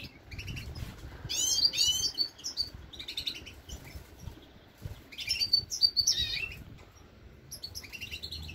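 Goldfinches sing at their nest in bright, rapid twittering bursts, two main clusters of close, lively chirps with short pauses between them.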